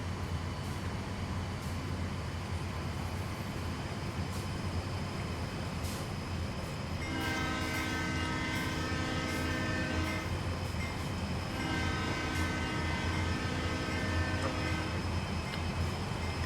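In the High Iron Simulations train game set on Cajon Pass, a Santa Fe locomotive horn sounds two long, loud chords over a steady rumble of the train rolling along.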